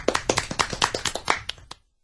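Audience applause at a live music stage show, a short burst of hand clapping about two seconds long that quickly fades out, with no talk.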